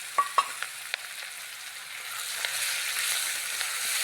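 Cumin, curry leaves, onion and green chilli hitting hot tempering oil for a chickpea curry: a few sharp crackling pops at the start, then a soft, continuous sizzle, fairly faint and close.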